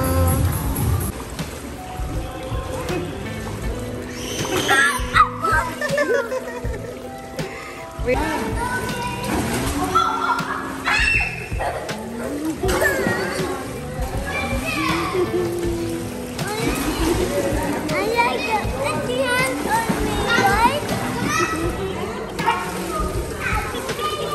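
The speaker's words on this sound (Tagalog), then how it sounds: "dito tayo sa kiddie pool guys because we're here for the kids" Children play and splash in a hotel kiddie pool, a steady wash of water and lively kids' voices filling the scene throughout, with adults talking now and then amid the busy poolside noise.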